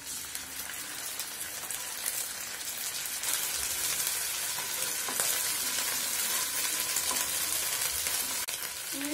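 Ginger garlic paste frying in hot oil in a pan, a steady close sizzle and crackle with occasional stirring, continuous and fairly quiet with no talking.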